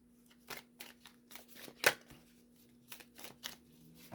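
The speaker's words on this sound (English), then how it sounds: "Let me get some more cards here, and we're going to do some more shuffling" Tarot cards riffled and shuffled in repeated bursts, a handful of crisp flurries with short pauses between, close and fairly quiet.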